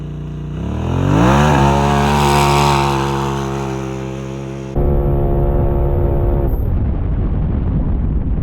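A Polaris RZR Turbo R side-by-side with a performance tune and center exit muffler roars close by as its engine climbs and revs hard, then holds a loud, gravelly drone after a sudden shift.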